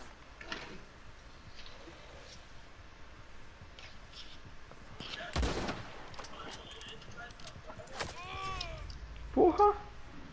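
Gunfire in the Western game Red Dead Redemption 2 Online sounds as a few sharp, distant-to-mid shots spread across the span, with a sudden close bang near the end. Quiet ambience and scattered other sounds fill the gaps.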